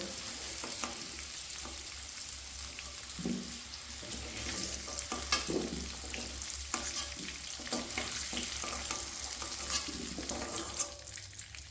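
Lightly fried potatoes are lifted out of hot oil in a home kitchen, with a soft, low-level sizzle under intermittent spoon scrapes and stirring clatter, fairly quiet and close, no talking.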